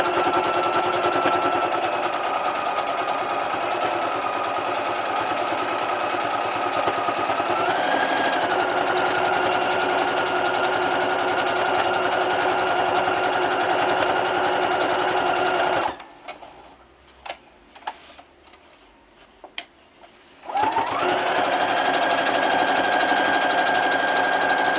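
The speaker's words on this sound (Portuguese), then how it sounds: "passar essa costura rebatendo bem na beiradinha na curva é um pouquinho complicado" Sewing machine running a seam close to the edge around a curve on a small coin purse, a steady fast mechanical whir for long stretches with a brief pause of scattered clicks before stitching resumes.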